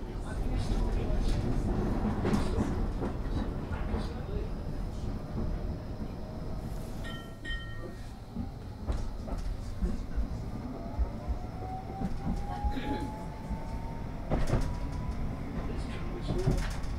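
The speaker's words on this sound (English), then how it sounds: "You've never got long to wait for a tram to turn up." A Blackpool tram runs along its rails, a rumbling, rolling drone with squeals and clanks plus a brief chime partway through, while a person talks over it.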